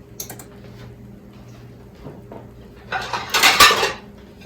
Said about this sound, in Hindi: अब मैं इसको प्लेट में निकालती हूँ।